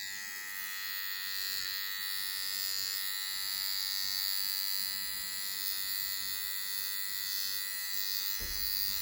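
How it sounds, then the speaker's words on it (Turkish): An inexpensive electric shaver running close up while shaving, giving a steady high-pitched buzzing drone throughout with a faint scratch near the end. "Çok iyi tıraş ediyor arkadaşlar."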